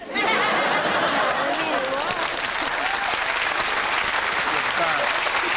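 A British TV talk show studio audience applauds, loud dense clapping filling the room, with chatter and light laughter and voices running underneath.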